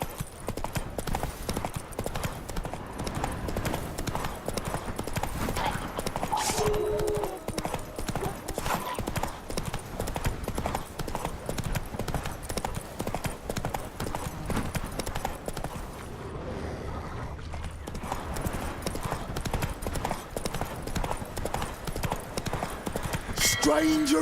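Horse hooves clip-clopping in a fast steady rhythm as a rider gallops in The Witcher 3: Wild Hunt, continuous and close, with game voices and ambience underneath and a brief lull partway through.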